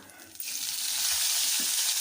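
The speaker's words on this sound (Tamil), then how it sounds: "கடுகு வந்து இந்த மாதிரி நல்லா வெடிக்கட்டும்" Mustard seeds hit hot oil and a loud sizzling crackle erupts, spitting and popping steadily close by.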